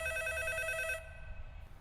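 An electronic telephone ring trills steadily for about a second, then stops, leaving quiet room noise.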